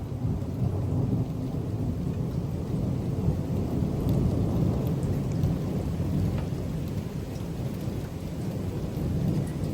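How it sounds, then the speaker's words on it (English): Severe thunderstorm on the outer bands with gusty wind: steady heavy rain pours down throughout, with deep rolling thunder rumbling underneath, loud and continuous with no one speaking. "Every time it thunders, it just pours down rain."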